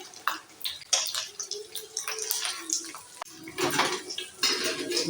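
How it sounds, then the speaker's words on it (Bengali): Rohu fish roe being fried lightly and flipped in a pan, heard as uneven clattering of a spatula against metal over a soft, wet sizzle, in bursts. "এক পাট ভাজা হয়ে গেছে ডিমগুলো এবার উল্টে নিচ্ছি একটু আমি হালকা করেই ভাজবো"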